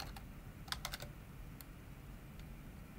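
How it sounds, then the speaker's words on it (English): Faint keystrokes on a computer keyboard, a few quick taps clustered together and then scattered single clicks, heard alone in a quiet room. "let me just type it."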